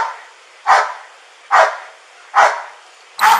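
A police dog barks four times at a steady pace, loud and close, each bark sharp and clear with quiet pauses between, at an outdoor arrest scene.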